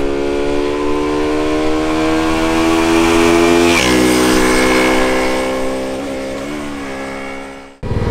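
KTM RC 125 motorcycle engine while riding, a loud, steady drone that holds high revs, shifts pitch midway and winds down before cutting off sharply at the end.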